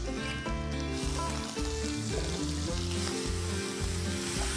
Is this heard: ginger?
yes